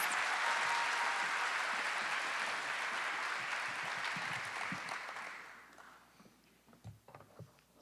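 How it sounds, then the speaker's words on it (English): An audience at a school leadership gathering applauds steadily as a speaker comes to the stage. The dense, loud clapping holds for about five seconds, then thins and fades, leaving scattered claps and footsteps. "Let's give her a round of applause as she comes."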